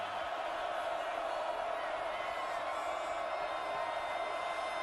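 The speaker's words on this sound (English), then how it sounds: "Listen to this Autzen crowd." A big football crowd at Autzen Stadium roars continuously, a dense, steady wash of cheering heard from within the stands.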